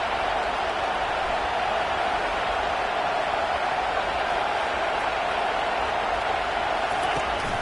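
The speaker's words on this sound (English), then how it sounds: "It is getting loud as this crowd tries to help its defense." Stadium crowd noise in the College Football 25 video game, a steady, dense roar of many voices that holds at a constant loud level throughout with no clear breaks.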